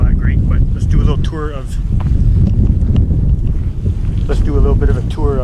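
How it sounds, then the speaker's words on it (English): Heavy wind buffets the camera microphone in a constant low roar while someone talks over it, on open water with whitecaps during a kayak trip. "Plus it's windy, there's a little bit of white caps, so the audio is not going to be all that great"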